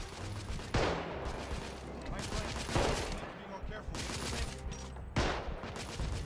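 Gunfire in the video game The Order: 1886 during a sniper fight, rapid repeated shots and heavy bursts blasting over a constant dense battle din, fairly loud throughout.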